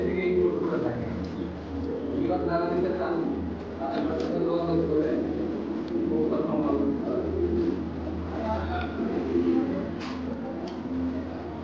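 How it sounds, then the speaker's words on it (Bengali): Low, repeated cooing of fancy pigeons at a pigeon farm close by, under steady background talk and some rustling. "ব্যতিক্রম ধর্মী একটি কবুতর, তাই তো?"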